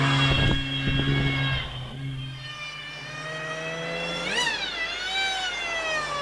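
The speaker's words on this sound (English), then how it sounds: "that is what a supercharged E-Type Jaguar sounds like" A supercharged E-Type Jaguar at a hillclimb, its engine holding a steady high whine that rises in a sharp swoop as it revs, heard alone at moderate distance.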